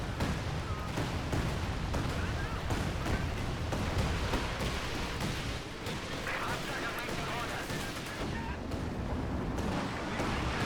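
Artillery fire and explosions from a strategy video game battle, a steady dense barrage of booms and crackling blasts throughout, with a person talking over it.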